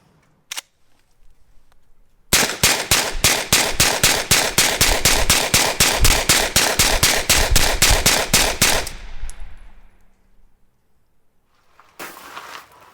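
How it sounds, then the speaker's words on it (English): A PTR 601 9mm pistol empties a 25-round magazine at an outdoor range, a rapid, steady string of loud close shots lasting about six seconds, followed by a lone faint shot after a pause. "we see the outstanding controllability from the PTR 601 with that 25 round mag dump"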